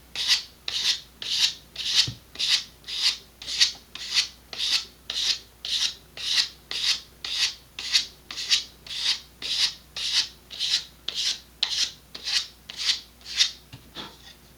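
A part of an Estes Optima Pro model rocket being sanded by hand: about two dozen even, rhythmic rasping back-and-forth strokes, close and clear, with no talk.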